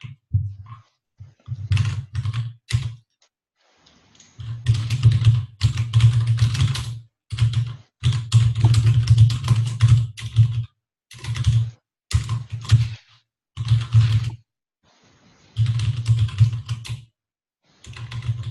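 Someone types on a mechanical computer keyboard in irregular bursts of crisp, close key clacks, with short pauses between the runs.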